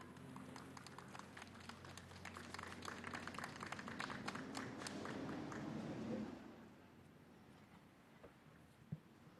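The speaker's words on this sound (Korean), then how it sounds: "큰 박수로 김정배 작가님을 맞이해 주시기 바랍니다" Audience at a literature concert applauding to welcome a left-handed painter, a steady patter of many hands at moderate distance that fades out after about six seconds.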